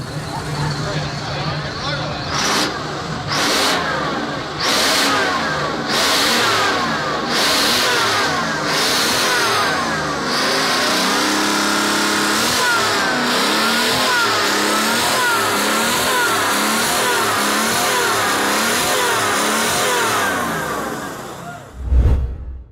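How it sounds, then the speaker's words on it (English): A blown 852 cubic inch 12-cylinder engine with dual blowers, built into a 1960 Peterbilt 351, revs loudly and steadily up close, with rising and falling throttle surges and brief bursts near the start. "852 cubic inch 12-cylinder engine delivers 474 horsepower through dual blowers"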